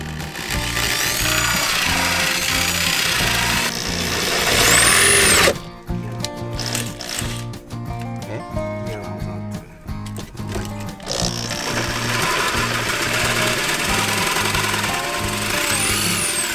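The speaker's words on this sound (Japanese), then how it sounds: "今日はね、ドリル使って上げていきたいと思います" A power drill drives screws to fix wood panels to the ceiling of a Toyota HiAce van interior. Loud bursts of whirring and grinding come close up, with a clattering, knocking stretch in the middle.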